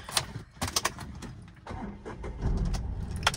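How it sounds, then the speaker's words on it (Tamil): A 2021 Tata Tiago facelift hatchback with about 72,000 km on it gives sharp clicks and a brief rattle, then its engine turns over and settles into a low, quiet idle that lasts to the end. "இன்ஜின் ஸ்டார்டிங் சவுண்டுமே ரொம்ப ஸ்மூத்தாக தான் இருக்குது"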